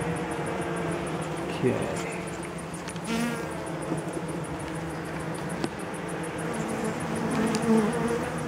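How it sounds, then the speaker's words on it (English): Honey bees swarm over nectar- and honey-filled comb in an open top bar hive, making a steady, close, continuous buzz with individual bees droning past the microphone. "Bees are feeding on it straight away."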